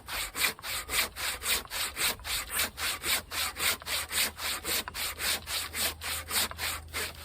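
Hand saw cut by hand through wood, no power tool, giving steady rhythmic back-and-forth rasping strokes, roughly two per second, close and clear with no talking.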